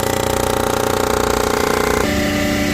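A machine shaving metal off a Pontiac 400 cylinder head drones loudly and steadily, with a fast rattling chatter that shifts in pitch partway through.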